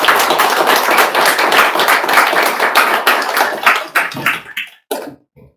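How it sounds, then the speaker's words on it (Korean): A church congregation claps to welcome a missionary pastor to the pulpit, loud close rapid clapping that holds steady for several seconds, then thins into a few scattered final claps and stops. "자, 우리 나오실 때 박수로 맞이하겠습니다"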